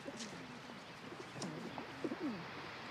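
Pigeons coo in a low, rolling series of repeated calls, fairly close and moderately loud over faint outdoor background noise, with several overlapping coos toward the end.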